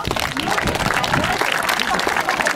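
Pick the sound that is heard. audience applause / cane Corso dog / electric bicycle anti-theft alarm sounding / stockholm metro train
audience applause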